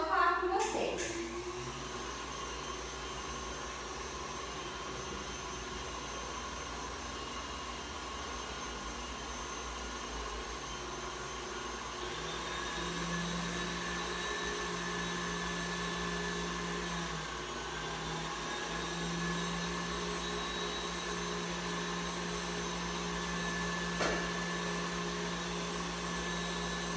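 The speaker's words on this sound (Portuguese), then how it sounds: "Vou ligar o máximo aqui da batedeira e já volto a falar com vocês." Stand mixer running at maximum speed as it whips chantilly cream made with powdered milk, a steady close whir with a motor tone that shifts pitch partway through, running alone with no talk.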